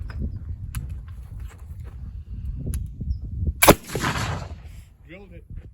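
A single sharp gunshot fired with homemade black powder, a loud crack with a short rumbling tail, standing out from low background rumble and faint distant sounds.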